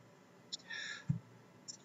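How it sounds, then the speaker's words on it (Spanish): A laptop touchpad is clicked a few times in succession during photo editing in Photoshop: soft, faint, sparse clicks in an otherwise quiet room. "Voy haciendo clics, haciendo sucesivos clics."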